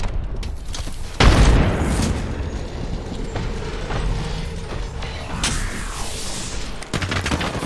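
Gunfire in the Apex Legends battle royale game, a busy mix of sharp shots and rapid bursts with a heavy boom near the start, loud and close amid game effects.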